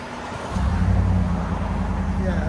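A 2024 Ford F-150 with a 5.0L Coyote V8 and an MBRP universal muffler cranks and fires up, then settles into a deep, steady idle rumble close by, with voices talking faintly in the background.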